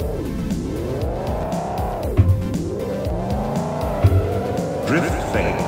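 Cartoonish race car drifting in Micro Pico Racers on PC: a steady engine whine sweeps up and down in pitch through repeated skids, with a tire squeal and a couple of low thumps along the way.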